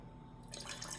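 Water poured into a drink, a soft liquid splash and trickle starting partway through, close and fairly quiet with no talk.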